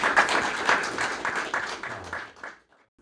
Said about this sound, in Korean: 우리 목사님 다시 한번 박수 쳐 주시고